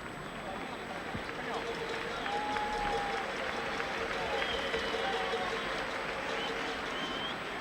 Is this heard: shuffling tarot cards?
no